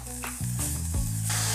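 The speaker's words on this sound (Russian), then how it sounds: "Разогреваем небольшую кастрюльку, буквально 2 столовых ложек оливкового масла. И поджариваем овощи." Vegetables frying in about two tablespoons of olive oil in a small pot, a loud steady sizzle filling the whole moment, close up and without talk.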